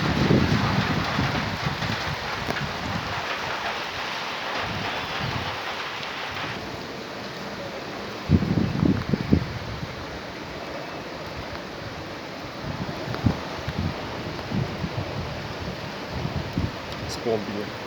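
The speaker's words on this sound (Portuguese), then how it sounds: "uma chuva forte chegando." Strong storm moving in over Presidente Prudente, with a steady wash of heavy rain and gusting wind noise throughout and a few louder bursts, while a person talks at times.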